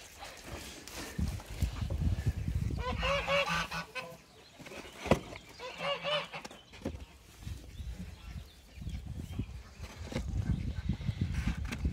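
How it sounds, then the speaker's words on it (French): Indian runner ducks on a poultry yard with ponds give bursts of honking, quacking calls in two clear groups, fairly close, over a rustling, muffled outdoor background with occasional bumps. "Du coup, on a 6 cannes."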